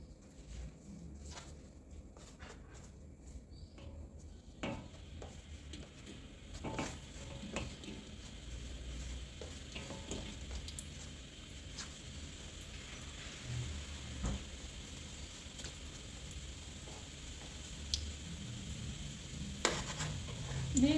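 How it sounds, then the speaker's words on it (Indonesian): Pieces of ketapang seed dough are dropped into hot oil and fry with a faint steady sizzle, punctuated by occasional clinks and scrapes of a utensil against the pan, fairly quiet overall. "ini minyaknya sudah panas. Kemudian saya akan masukkan potongan-potongan biji ketapangnya yang tadi."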